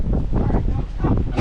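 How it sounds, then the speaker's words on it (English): Strong wind gusting to about 15 on a boat in a tree-lined canal buffets the microphone in a continuous low roar that swells and dips, with no clear voices. "Winds are gusting to about 15"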